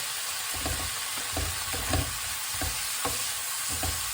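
Soy sauce hitting prawns and onions in a hot wok, a broad steady sizzle with low thumps of stirring and tossing at regular intervals, nearby and without talk.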